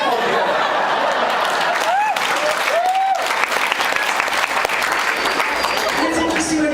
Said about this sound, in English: Clap all together.